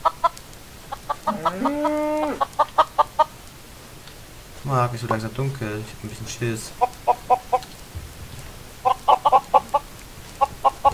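Chickens in Minecraft cluck in quick repeated bursts throughout, loud and close, while two people talk in German over them.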